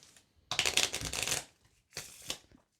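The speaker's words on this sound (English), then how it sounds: "She's shuffling the cards." Two bursts of playing cards being riffle-shuffled, a longer one then a shorter one, close and crisp with no talking.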